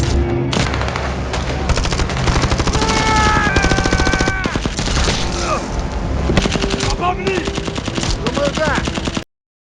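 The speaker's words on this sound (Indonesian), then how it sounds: "Ketika hendak pergi, dua kru tiba-tiba melepaskan tembakan." Gunfire in a film scene on an island, with rapid automatic bursts and sharp shots crackling in dense volleys, loud and close, and a few whooshing effects between the bursts before an abrupt cutoff.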